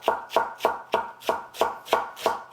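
A knife shreds iceberg lettuce finely on a cutting board, about nine crisp, evenly spaced chops in a steady rhythm, close and clear, with no talk.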